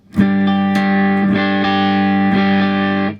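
Electric guitar played through a Danelectro distortion pedal into an amp, a loud sustained distorted chord struck and held with a few restrikes, thick and saturated throughout.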